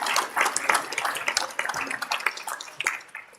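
Audience applause at a League of Women Voters redistricting forum at Yale Law School, a burst of many hands clapping together that stays dense and moderately loud before thinning out near the end.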